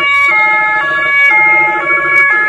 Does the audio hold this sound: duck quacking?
no